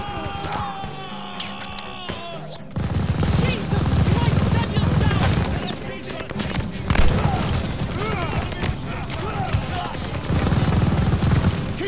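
Dense automatic gunfire from an enemy machine gun post in Call of Duty Vanguard's Operation Tonga mission, sustained and loud with booms and battle noise layered throughout, and voices shouting over it.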